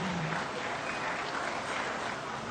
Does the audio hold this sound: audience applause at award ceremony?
yes